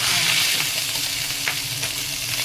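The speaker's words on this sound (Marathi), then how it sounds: "थोडासा भात आहे तो पण तव्यावरती फ्राय करते" Leftover cooked rice sizzles and crackles on a hot griddle, a steady frying hiss with occasional soft stirring scrapes.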